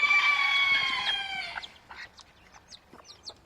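Small Sebright chickens on a poultry walk-through: a loud, close rooster crow rings out first, then tapers into scattered soft clucks and short calls from nearby birds.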